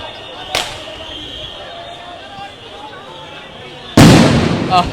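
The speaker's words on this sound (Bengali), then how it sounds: "আবারও কিন্তু সাউন্ড গ্রেনেড নিক্ষেপ করা হয়েছে" Sound grenades going off during a street protest at Shahbagh, with a sharp distant crack early on and then a louder, nearer blast near the end, over a steady din of crowd noise.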